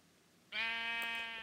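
A single sheep in Minecraft lets out one short, clear, nasal bleat, close and fairly loud against a quiet background.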